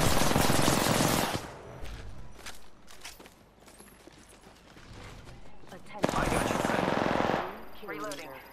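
Automatic weapon fire in a competitive shooter match, loud bursts at the start and again near the end with quieter action between, heard under players' radio chatter about shields and reloading.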